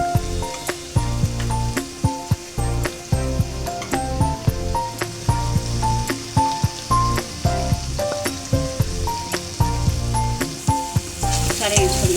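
Spices and chili powder fry in a pan for a Konaseema-style curry of raw fish, a steady sizzle broken by frequent sharp clinks and scrapes of a spoon stirring, close and continuous with music playing underneath.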